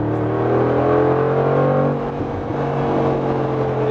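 Mercedes-Benz G63 AMG V8 engine in Sport Plus mode, a loud, close, deep rumbling roar that builds steadily as revs climb, with no voices.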